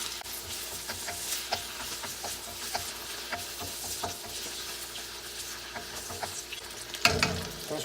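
Vegetables frying in hot oil for honey seared chicken, stirred with a wooden spoon: a continuous sizzle broken by repeated scraping and tapping strokes, ending with a louder clatter near the end.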